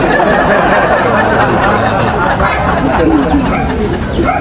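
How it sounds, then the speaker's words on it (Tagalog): Pigeons scuffling and cooing among other birds, a dense continuous flutter of calls and chatter held at steady loudness throughout, close by. "Nagbubugbugan mga kalapatids"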